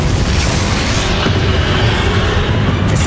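Bombarda spell explosion in the Hogwarts Legacy video game, a loud booming burst with a rumbling low-end tail that fills the moment, no voice over it.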